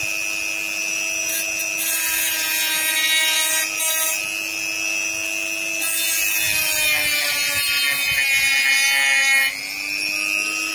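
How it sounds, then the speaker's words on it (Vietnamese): A hand saw cuts along a marked line through a piece held inside a box that keeps it from jumping. The steady, close rasping strokes run without a break, with a faint tonal ring underneath. "Bây giờ cứ theo cái dấu này mà cưa thôi"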